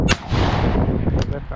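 Shotgun shot on a pheasant shoot beaters day: a loud, close blast at the start, then a second, fainter report a moment later, heard outdoors with brief talk.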